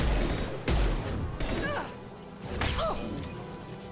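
Weapon fire in Mass Effect 2 Legendary Edition, a few sharp impact shots and whooshes with abrupt blasts, mixed with game effects and brief battle chatter.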